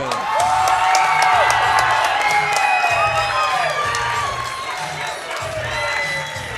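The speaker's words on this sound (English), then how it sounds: "You hear the hometown crowd." At a Muay Thai event, a hometown crowd cheers and whoops, with high shouts and scattered clapping filling the arena in a loud, continuous swell while a fighter makes his way out, under a steady low pulse of music.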